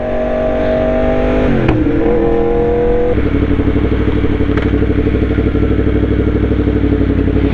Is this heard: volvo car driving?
yes